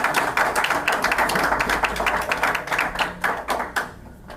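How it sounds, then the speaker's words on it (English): An audience at a legislative press conference on education claps in a fast, continuous patter of close individual hand strikes for about four seconds, then abruptly stops. "I want to give a round of applause"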